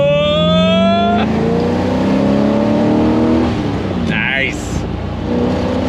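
1970 Chevrolet Corvette Stingray 454 V8 at hot throttle, loud and close from inside the car, revving up through shifts with a deep roar while a person briefly speaks.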